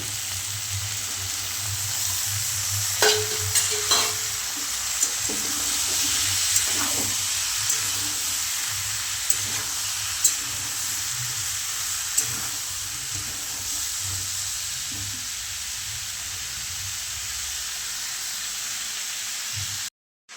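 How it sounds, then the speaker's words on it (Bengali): Peas and potatoes frying in a pan, giving a continuous hissing sizzle with a few sharp stirring clinks near the start, steady and close until an abrupt cutoff at the end. "ভালো করে মটরটাকে ভেজে নিচ্ছি"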